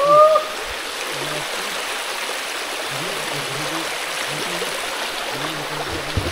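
A forest stream runs over rocks near Dhuppani waterfall, a steady broadband rush of flowing water that holds evenly throughout, with faint low knocks beneath it.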